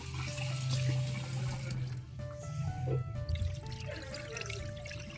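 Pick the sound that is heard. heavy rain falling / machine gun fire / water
water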